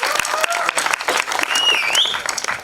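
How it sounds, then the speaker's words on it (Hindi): An audience at a film trailer launch event claps in a dense, sustained round of applause that carries evenly from start to finish. "जोरदार तालियां लेडीज एंड जेंटलमैन इनके लिए।"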